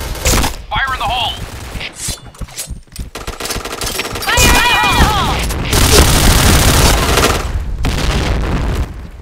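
Repeated grenade blasts and bursts of gunfire from the shooter game Point Blank, played on the Luxville map, loud and dense throughout, with game voice lines and tonal effects in between.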